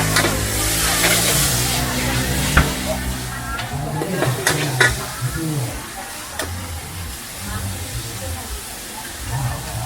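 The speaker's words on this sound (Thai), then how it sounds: "ผัดไม่ได้หยุดเลยครับ พอตอนเย็นเข้ามาแล้วก็ผัดไม่ได้หยุดเลย" Steady sizzling and scraping of Pad Thai noodles being stir-fried in a hot wok, continuous throughout, with voices talking in the background.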